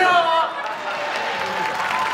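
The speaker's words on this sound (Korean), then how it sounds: "자, 박수 주세요!" Concert crowd at a K-pop performance clapping along, a broad wash of applause following a sung note, moderately loud and steady, with a voice briefly heard near the start.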